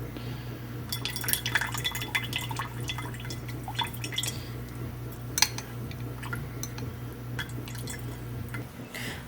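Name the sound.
water draining from homemade mozzarella curd into a bowl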